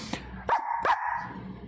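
Two short, fairly loud dog barks close together, with faint background sound between them and no talk over them.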